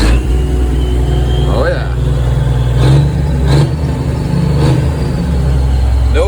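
A log loader's unmuffled engine with no exhaust, running loud and close as it revs up and settles into a steady roar with surges, while someone speaks briefly over it.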